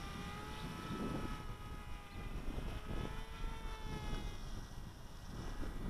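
A small WLToys F959 radio-controlled model plane flies overhead with a steady, whining propeller drone that rises and falls in pitch as it banks, heard outdoors with some wind.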